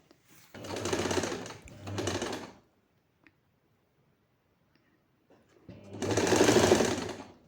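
A sewing machine stitches layers of a three-layered frock together, running in two close bursts, then pausing in near silence before a third loud burst, heard near and alone.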